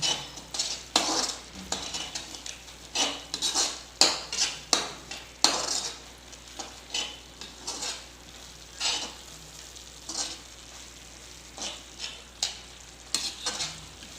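Cream stirred into paneer capsicum curry in a pan: a metal spoon scrapes and clinks against the pan in uneven repeated strokes over a soft steady sizzle, close and alone.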